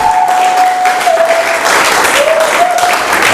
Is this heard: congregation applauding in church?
yes